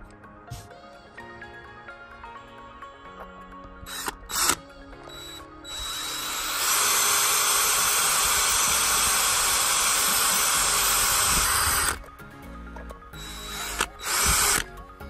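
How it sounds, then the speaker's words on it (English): A power drill bores into an iPhone, starting with short whirring bursts and then one long, loud, steady high-pitched grind for several seconds before stopping, with a few brief bursts after. "It only cracked after a minute of drilling."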